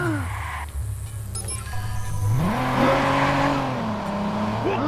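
Car engine in the Watch Dogs video game, revving up and accelerating with a rising, wavering tone that swells and holds steady, close and fairly loud after a short quieter stretch near the start.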